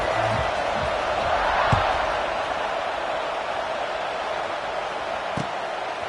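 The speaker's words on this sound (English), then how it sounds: "this crowd is buzzing after that last score" A football stadium crowd keeps up a dense, steady roar after a score, loud and continuous throughout, with a few faint thumps and no distinct voices.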